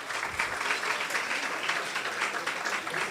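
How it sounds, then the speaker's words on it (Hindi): Audience applause at a church ministries program in Sharjah, a dense, even wash of clapping sustained throughout at moderate level without speech. "आपकी भरपूर तालियों में मैं अपनी बहनों को"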